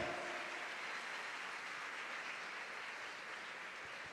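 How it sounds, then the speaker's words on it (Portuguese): Church audience applauding and praising during a worship sermon, a broad, even wash of many clapping hands heard at a distance, steady and unbroken from start to finish and slowly easing off. "Erga suas mãos e aplauda ao Senhor"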